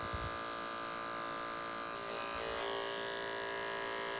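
Electric hair clippers with a 1.5 guard tapering a men's haircut, a steady close buzzing hum running throughout with slight shifts in tone as the blade moves through hair.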